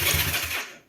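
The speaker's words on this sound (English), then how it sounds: "that is the sound of an engine turning over" A motorcycle engine cranking over briefly on the starter, a rough mechanical churn lasting under a second before cutting off without starting, fairly close.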